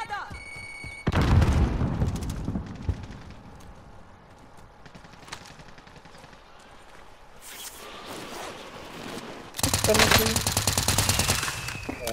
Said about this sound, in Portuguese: Olha os caras lá, os caras atirando nos outros.